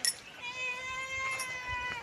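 A thin, drawn-out kitten meow rises and holds, faint and fairly close, with a soft second cry after it.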